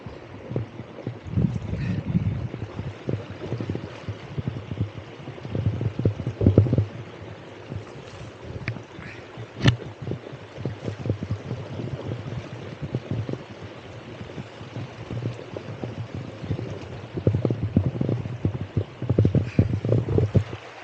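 Floodwater after Cyclone Fengal runs in a village in Tamil Nadu, a steady full rushing and churning that goes on throughout, heavy and close, buffeted by wind on the microphone.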